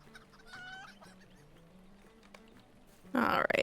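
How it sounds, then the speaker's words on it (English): A rooster clucks in a few soft bursts amid quiet background game sound, followed by a sudden loud, harsh squawking flurry at the end, in a chicken-run game. "Get away from the rooster again."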